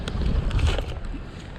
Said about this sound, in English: here we are in this 20-mile-an-hour winds already